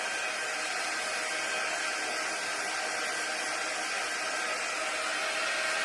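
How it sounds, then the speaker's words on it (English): A handheld drying tool blows a steady, even rush of air at close range over shimmer paste on a craft flip sign, with a constant whooshing hum and no talk. "But the drying tool really speeds it up"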